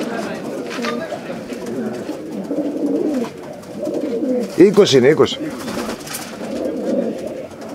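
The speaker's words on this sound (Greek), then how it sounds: "αυτά είναι τα περιστέρια" Pigeons at a pigeon festival in Serres, Greece, coo in a soft, low, continuous murmur, with a louder burst of flapping and calls midway, all under ongoing talk from people nearby.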